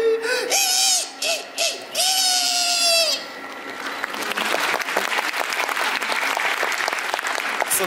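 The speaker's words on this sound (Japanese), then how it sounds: "拍手、ありがとうございます。" A theme-park crowd at Universal Studios Japan claps after a performer's call, the broad applause swelling in over the last half following a shouted, stretched voice at the start.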